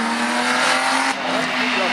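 Slalom race car, number 26, at a 2023 event in Agon-Coutainville, engine roaring loudly with a tire squeal at the start, close and strong, with a voice speaking over it.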